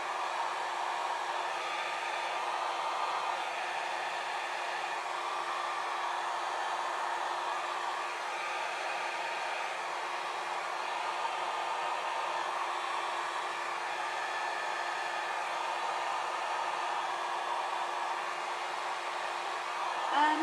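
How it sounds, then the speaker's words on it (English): A hair dryer running on its second speed blows alcohol ink across a painting, a steady, fairly quiet whooshing hum that holds even and unbroken for about twenty seconds. "sometimes, depending on the size, I use the second speed of my dryer as well"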